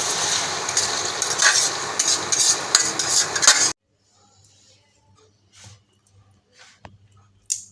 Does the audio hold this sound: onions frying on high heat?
yes